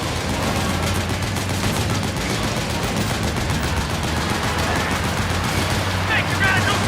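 Metal Gear Solid 4 gunfire pours out as dense, continuous machine-gun bursts and overlapping shots, loud and close, amid a thick battlefield din.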